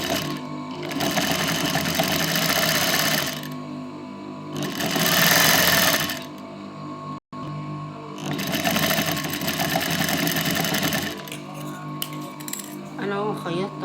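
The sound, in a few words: sewing machine stitching fabric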